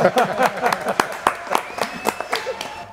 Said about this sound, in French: applaudissements mais pour Moïse